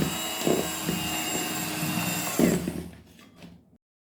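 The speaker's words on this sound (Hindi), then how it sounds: "मैदे को हम थोड़ा थोड़ा डालेंगे और इसको हमने साथ साथ बीट करते जाना है।" An electric mixer beats cake batter for a caramel cream cake while flour is added little by little, a steady whirring drone with two brief louder bumps, fading out near the end.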